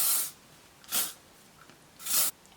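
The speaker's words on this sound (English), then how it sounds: "I'm just going to spray it with some hairspray" Hairspray hisses onto freshly curled hair in three short aerosol bursts, close and crisp, with brief quiet gaps between them.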